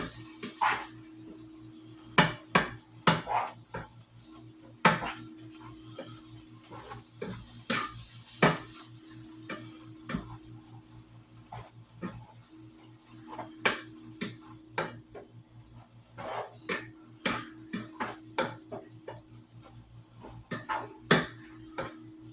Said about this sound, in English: right now, I'm browning my hamburger meat